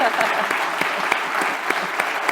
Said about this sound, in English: Can we get one more big round of applause for Dr.